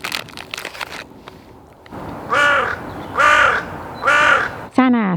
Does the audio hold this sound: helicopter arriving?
no